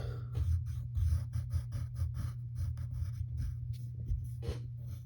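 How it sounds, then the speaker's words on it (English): Pencil sketching Captain Hook's nose on paper: soft, close scratchy strokes in short repeated bursts over a low steady background hum. "next we need to draw his nose"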